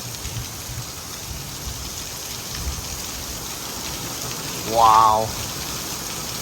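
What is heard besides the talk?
heavy pouring rain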